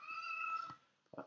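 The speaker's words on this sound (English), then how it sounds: "Wait, is that a cat? Yeah, that's a cat." A cat meows twice, close by and clear: a long harmonic meow followed after a short pause by a brief second call, with no talk over it.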